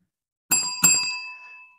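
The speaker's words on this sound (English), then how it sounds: "You just hit the bell and go." Two quick rings of a bell struck near a 1946 Chevrolet grain truck, bright metallic tones with a clear pitch, the second following closely on the first, loud and close and left to fade out, with no talk.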